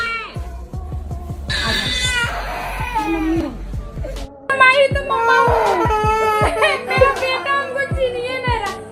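Children wail and sob loudly and close by, their rising and falling cries overlapping with little pause through the whole stretch. A steady, rhythmic low thumping runs underneath, and the crying grows denser and shriller partway through.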